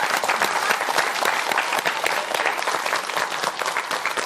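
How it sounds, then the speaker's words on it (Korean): A television studio audience applauds, a brisk, even burst of many hands clapping close and fairly loud for several seconds, with no one talking. "박수 부탁드릴게요."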